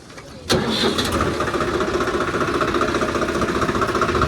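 A tractor engine cranks and catches, then settles into a loud, steady chugging idle with rhythmic knocking close by.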